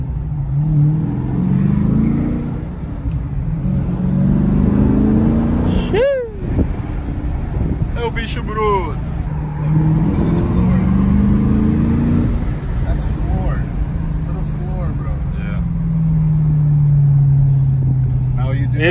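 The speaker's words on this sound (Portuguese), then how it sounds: "Vamos pisar um pouquinho, né? Queimar uns pneuzinhos ali na frente." A 650-horsepower car accelerates hard and burns its tires, a loud, steady engine roar with a sharp rising squeal partway through, all close to the microphone, while someone talks over it.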